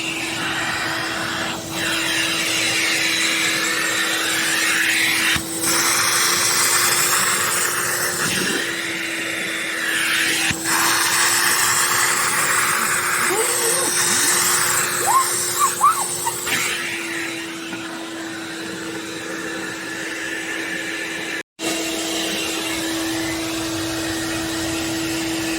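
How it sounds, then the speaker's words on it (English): A shop vac runs continuously as part of a custom upholstery cleaning system, a loud steady whining roar with a constant motor hum, briefly cutting out near the end before resuming, with no talk. "The shop vac comes with the black vacuum hose."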